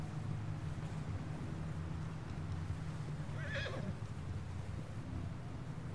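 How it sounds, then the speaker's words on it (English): A horse in Red Dead Redemption 2 gives a short, fairly faint whinny midway while trudging through deep snow, over a steady low wind-like rumble and soft hoof sounds. "o cavalo só tá reclamando, mas não tá conseguindo andar mais rápido"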